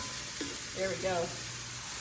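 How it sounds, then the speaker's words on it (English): Golden mushrooms sizzling in a pan after cooking with bacon, a soft steady sizzle close by with a short stirring sound partway through. "Nice and golden and sizzling."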